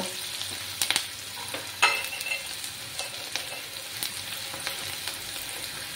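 Two medium sliced onions frying in a pan, a steady hissing sizzle close by, punctuated by a few sharp clinks and scrapes of a spatula.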